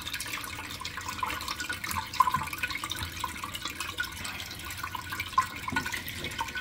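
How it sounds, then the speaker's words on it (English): Water drains from a toilet tank while the flush handle is held down, a soft, continuous trickling and gurgling with a few faint drips, close and quiet, no voices. "I'm gonna hold this to let it keep draining all the water out of the tank as much as possible"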